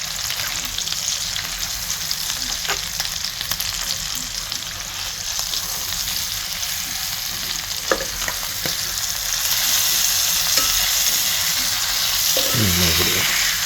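Chicken thighs frying in a hot pan give a steady close sizzle, with brief scraping and clinks as pieces are flipped and the hiss swells louder toward the end.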